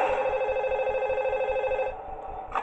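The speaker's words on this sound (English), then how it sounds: "We get a phone call." Phone ringing in the video game Five Nights at Toothless: a continuous loud electronic telephone bell that rings steadily for about two seconds, then cuts off, followed by a short faint blip.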